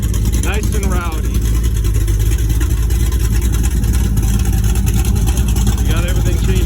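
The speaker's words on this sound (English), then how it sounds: "here's what it sounds like with open exhaust" A drag race car at Darlington Dragway during Hot Rod Drag Week runs with open exhaust, a loud, rowdy, continuous engine roar close by, with a voice briefly talking over it near the start.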